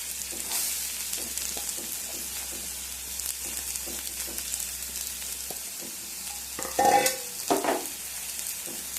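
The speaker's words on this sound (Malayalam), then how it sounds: "ഇനി അരിഞ്ഞ് വെച്ചിരിക്കുന്ന ഉള്ളിയും പച്ചമുളകും ഇതിലേക്ക് ഇട്ട് കൊടുക്കാം." Chopped onion and green chilli stir-frying in a pan for a green bean thoran, a steady close sizzle with soft scraping stirs and a louder clatter of the spoon near the end; no speech.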